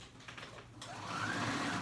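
A sewing machine stitches a swimsuit, starting with light uneven whirring and then settling into a steady, louder motor drone with a rising whine, close up and without talk.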